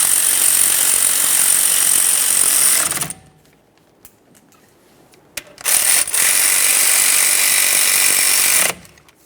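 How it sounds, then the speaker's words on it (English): Power tool whirring on caliper slider mounting bolts of a 2011-2020 Toyota Sienna front brake job, two sustained loud bursts of several seconds each separated by a quiet pause with faint clicks. "Now we'll snug them up and torque them to 20 foot-pounds"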